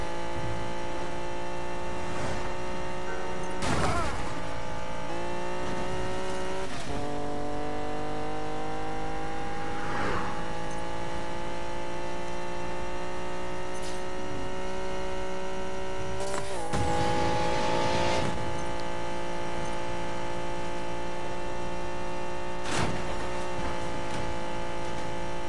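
A car engine in a PS4 racing video game revs steadily throughout, its pitch climbing and shifting with acceleration and gear changes, loud and continuous, with no talking.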